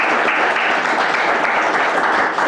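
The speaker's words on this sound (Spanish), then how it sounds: "Den un aplauso a Jesús" Sustained applause from a sizeable church congregation, a steady wash of clapping that holds at an even level for a couple of seconds.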